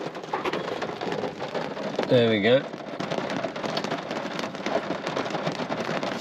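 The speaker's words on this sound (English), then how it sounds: "Full on rain, full on rainy season." Heavy rainy-season rain pours down in Iya Valley, Tokushima, Japan, a steady broadband hiss throughout, with a short burst of speech and a brief chirping sound near the start.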